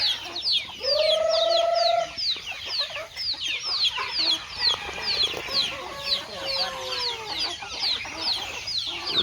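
Chickens and ducks on a farm cluck and call close by, with overlapping bird sounds throughout and one clear, sustained call near the start.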